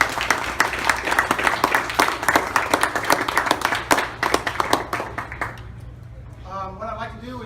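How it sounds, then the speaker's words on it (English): An audience claps at a press conference, bursts of hand claps fading out over several seconds before a voice begins speaking. "So give yourself a round of applause."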